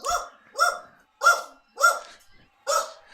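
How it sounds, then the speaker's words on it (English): Dogs bark at a mail carrier at the door, five loud, sharp barks in a steady rhythm with brief gaps between them, close by and with no talk over them. "Excuse the dogs barking."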